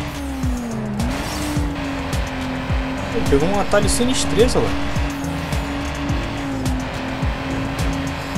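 Racing car engines roar and tires squeal in the Need for Speed: Underground street-racing game, with steady loud engine drone, pitch sweeps from gear shifts and skids, under continuous talk.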